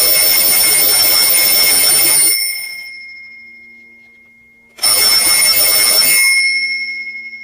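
A new, very loud blue twin bell alarm clock rings in two bursts: a harsh, rapid metallic clanging up close, a ringing fade in a short pause, then a second burst.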